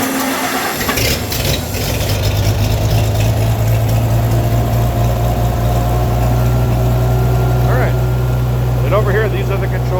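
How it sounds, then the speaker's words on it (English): An Oliver 880 loader tractor engine runs steadily after starting, a loud continuous low rumble with a firm idle throughout, close by. "turn the ignition on, step in the clutch, and go ahead and start it"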